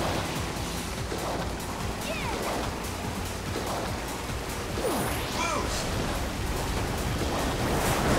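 Crashing, surging water from interactive waves in the racing game Sonic and All-Stars Racing Transformed, a steady, full wash of splashes and sloshing that runs the whole time and swells slightly near the end.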